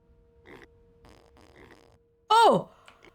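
Pig in the farming video game The Last Farmer lets out a single loud, squealing grunt that rises and falls, heard right after a few quiet spoken words.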